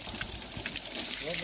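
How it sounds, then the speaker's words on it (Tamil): Water pouring nonstop from a Nandi spout into a temple tank at the 2000-year-old Ramagiri Shiva temple near Uthukottai, a steady faint gushing trickle with a voice speaking briefly. "இந்த நந்தி தண்ணி வந்து எங்கிருந்து வரது தெரியாது, நிற்காம வருது"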